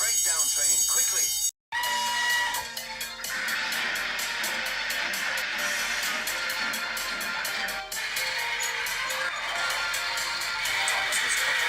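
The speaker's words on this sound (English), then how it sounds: "Soon came the alarm." An alarm bell rings continuously in a Trainz Thomas the Tank Engine scene, a loud rapid metallic ringing that starts after a brief silence and carries on for several seconds with little change.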